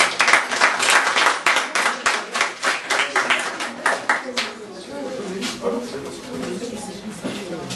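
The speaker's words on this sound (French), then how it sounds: "Alors, on l'applaudit bien fort." An audience at a school award ceremony claps for a student receiving an encouragement plaque; loud, rhythmic, close hand claps fade after about four seconds into softer scattered clapping with voices underneath.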